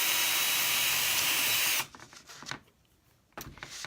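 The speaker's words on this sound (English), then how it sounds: "And then I'm gonna drill one a little bit further down." A power drill bores a second hole in a kite-shaped door hanger, a loud steady whirring for about two seconds before stopping abruptly, followed by a few quieter handling knocks.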